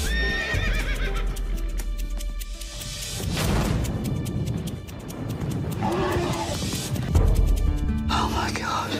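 A racehorse whinnies loudly while hooves clip-clop, mixed with whispered voices and dramatic music in a Melbourne Cup racing film trailer.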